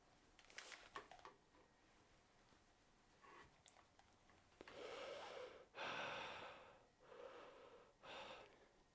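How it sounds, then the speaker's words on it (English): Someone breathes through a face mask, with audible inhales and exhales that grow louder and more pronounced in the second half, close to the microphone with no talk. "You can hear that, right? That's me breathing."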